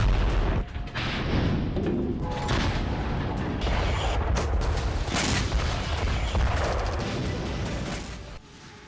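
Artillery and missile fire roar across a battlefield in the Russia–Ukraine war, a loud dense barrage of booms and rumbling blasts that continues almost without pause before dropping off at the end.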